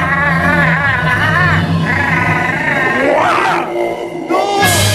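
A voice imitates a strained throat sound with rising and falling groaning, gurgling tones, loud and close, within a spoken joke.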